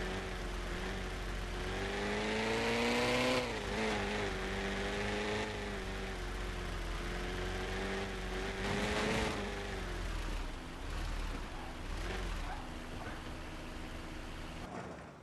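A car engine hums and revs through shifting gears while driving in the video game Car Simulator 2, its tone rising and falling steadily, fairly faint and with no talk over it.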